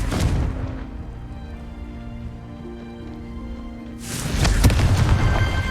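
A Confringo fire spell in the Hogwarts Legacy game bursts with a booming blast at the start, then a humming tonal lull, followed by a second loud, crackling explosion that rolls on to the end.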